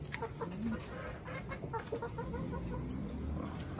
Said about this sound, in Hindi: हम चार मुर्गियां लाए हैं। ये देखें जी, हमारी नई मुर्गियां आई हैं।